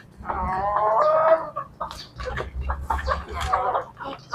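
Chickens being called in for feeding clucking and calling close by, a busy overlapping chorus of short squawks and murmurs with a low rumble underneath.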